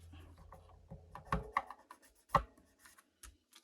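A scoring tool is drawn along A4 card stock to crease fold lines for a handmade pop-up box card, giving short dry scratchy strokes and a few sharper taps, close and fairly quiet.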